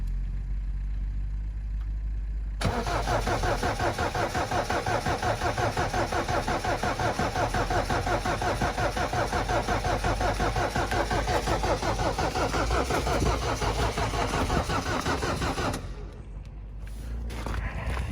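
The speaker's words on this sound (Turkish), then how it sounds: "Oğlum ekspres bu kadar niye zor çalışıyor kardeşim?" A Fiat Doblo Express van's starter cranks hard in minus-ten-degree cold, a loud rhythmic chugging that runs for about thirteen seconds without catching, then cuts off into a quieter idle-like hum.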